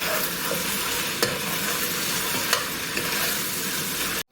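Tomato paste for Guyanese stew chicken stirred and sizzling in a pot, a steady close frying hiss with a few light scrapes of the spoon, no voices.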